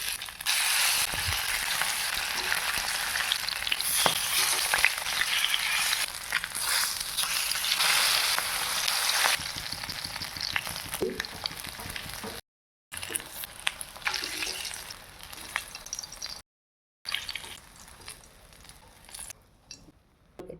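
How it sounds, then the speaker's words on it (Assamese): Fish frying in hot oil in a pan, a dense continuous crackling sizzle that rises and falls, close up, with a couple of brief silent gaps and no talking. "মই এতিয়া ইয়াত তেল দি দিওঁ মাছ ফ্ৰাই কৰিবৰ বাবে"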